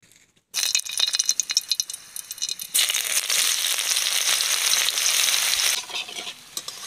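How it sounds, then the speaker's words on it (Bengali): Chopped onion and dried red chilli hit hot mustard oil in a wok with a sudden loud sizzle after a brief quiet start, crackling intensely and steadily at close range before easing slightly at the end. "এবার কড়াইতে সর্ষে তেল দিয়ে পেঁয়াজ কুচি আর শুকনো লঙ্কা দিয়ে দিচ্ছি"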